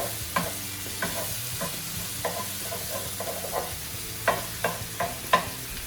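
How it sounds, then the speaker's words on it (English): A potato hangover hash sizzles in a pan while a utensil stirs it, making a series of distinct scraping strokes over a steady low frying hiss. "Give this another little stir."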